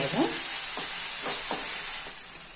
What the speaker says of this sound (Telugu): ఒకసారి ఫ్రై చేసుకుందామండి.